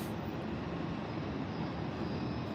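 Jet engines spooling up at Tampa International Airport, a steady broad roar holding at a constant level throughout, moderately distant with no voices.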